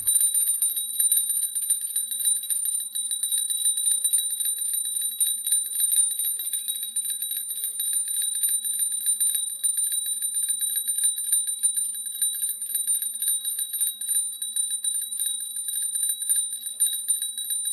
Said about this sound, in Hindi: सुबह जैसे ही घर के मंदिर में घंटी बजती है